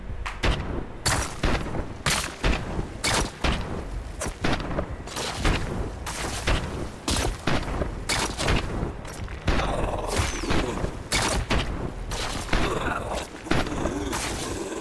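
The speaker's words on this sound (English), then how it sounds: "That wasn't bad for full auto shots" Dense full-auto gunfire in a tactical video game, long rapid bursts of loud, close shots with brief gaps, repeating steadily throughout.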